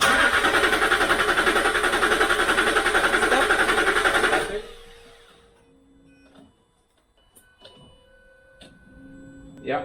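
A Land Rover Discovery 3 diesel engine cranks loudly with a steady, whirring starter drone for about four seconds without catching, then cuts off, leaving quiet with faint clicks and hums.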